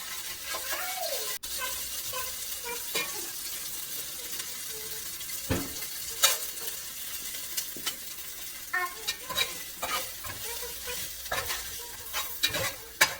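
Onions fry softly in a pan while a utensil scrapes and stirs in intermittent strokes, with occasional clinks.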